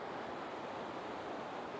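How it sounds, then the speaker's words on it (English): Steady rushing water flows past a river bank in a constant broadband wash, fairly faint and unbroken, with no voices over it. "Trying to put a number to how much water is passing here"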